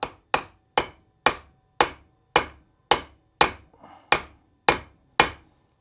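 A ball-peen hammer, ball end first, strikes metal clamped on a small vise: about eleven sharp, ringing metallic blows at a steady, deliberate pace, close and loud with brief decays between hits.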